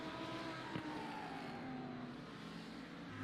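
A Lamborghini Huracan race car engine in a sim race at Indianapolis holds a steady high whine at moderate distance, with a smooth pitch that shifts slowly and a brief click partway through.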